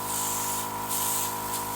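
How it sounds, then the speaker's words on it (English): Dinair airbrush misting makeup onto tissue, a faint steady hissing spray with slight pulsing, close and continuous for about two seconds with no talk. "And of course, spraying that tissue."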